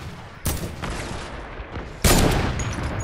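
Rapid bursts of video game gunfire in an online multiplayer match, a sustained volley of shots with a louder, sharper barrage arriving partway through, no voices over it.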